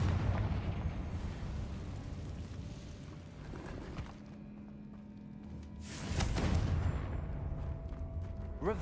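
Blasting spell explosions in Hogwarts Legacy, a loud burst of rumbling detonation near the start and another strong blast around six seconds, with sustained crackling and low rumble between.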